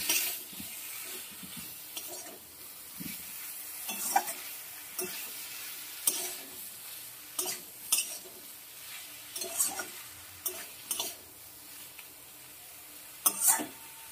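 Vegetables including ridge gourd are sautéed in a pan for chhyachra, a quiet background sizzle with repeated spaced scrapes and knocks of a spoon stirring against the pan.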